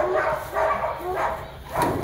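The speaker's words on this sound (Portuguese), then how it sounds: "juntando os cachorros" Several hunting dogs bark in repeated bursts close by at a kennel, a noisy chorus of woofs and yips with voices mixed in.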